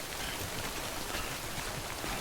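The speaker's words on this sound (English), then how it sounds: "And in comes the rain once more." Rain falls steadily in Death Stranding, an even, hissing patter of drops on the ground that stays constant and close throughout, with no voices.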